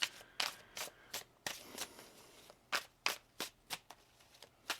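A tarot card deck being shuffled: a series of crisp, close riffling snaps in an uneven rhythm, about fifteen quick bursts with short pauses between them, fairly quiet overall.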